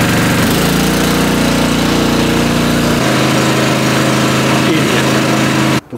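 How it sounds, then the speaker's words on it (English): Small pull-start fire pump engine running steadily and loudly throughout, its low droning note shifting pitch partway through before cutting off abruptly at the end. "So all I have to do is pull start it and it should go."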